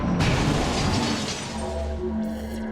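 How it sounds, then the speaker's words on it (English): A Gatekeeper smashing through a wall in XCOM 2: one loud, close crash with crumbling debris that rumbles and fades into a low hum. "We could hear that it smashed through this wall."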